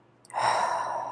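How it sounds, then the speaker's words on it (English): A single deep breath during a guided meditation, a soft airy rush that swells quickly and holds steady, close and clear with no talking. "Let's take a few deep breaths in"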